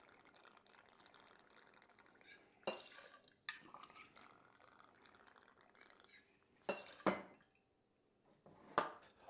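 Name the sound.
pouring liquor for a spicy hibiscus martini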